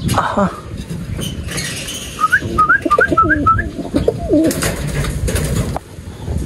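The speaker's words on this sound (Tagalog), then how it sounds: "Si Batman ang kulit yung mga pang-south natin mga kalapatids." Racing pigeons in a loft being readied for a summer derby race give soft coos and short chirping calls over a busy, noisy background.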